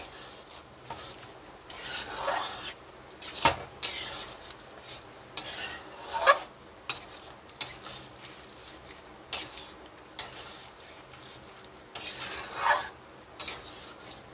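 Butter garlic chicken being stirred in a pan, a spoon scraping and clinking against the metal in irregular rubbing strokes with sharper taps, moderately close and steady, without any talking.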